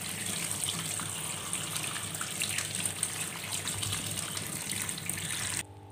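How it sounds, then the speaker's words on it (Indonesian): Tap water runs steadily over shallots, garlic, chilies and scallions being washed in a kitchen sink, a continuous close splashing gush that cuts off abruptly at the end. "sama kita cuci juga pakai air yang mengalir"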